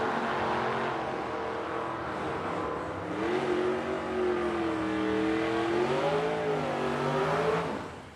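Drag race cars, a 1971 Pinto and a Demon, launch down the strip at an Edmonton race meet, engines revving and rising in pitch as they pull away, moderately loud and fading slightly at the end, with no talking.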